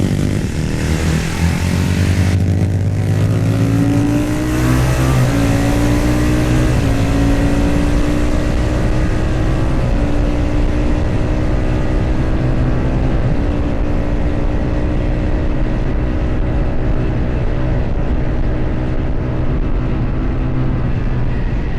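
A Manx Norton racing motorcycle at full throttle on the Snetterton circuit, a loud, continuous, raw single-cylinder engine roar with shifting pitch as it accelerates and changes gear, heard alone without talk.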